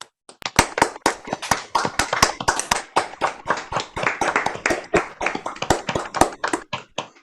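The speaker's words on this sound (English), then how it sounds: "please join me with your mics off for a nice round of applause to Catherine and Megan" A round of applause for two speakers at an online talk, with many sharp, loud handclaps in a dense, steady flurry lasting throughout, alone with no voices.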